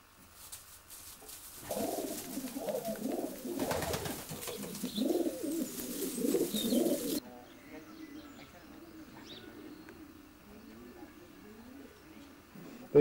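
Racing pigeons in a loft bedded with straw litter coo in low, throaty, overlapping rolls, louder and busier at first, then softer and more scattered near the end.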